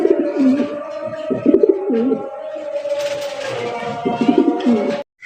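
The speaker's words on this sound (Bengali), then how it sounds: "একজোড়া ব্ল্যাক কালার পারবিন কবুতর পাইতেছেন" A pair of black Parbin pigeons at a pigeon farm coo in deep, rolling, repeated calls, close and clear, with soft rustling in the background.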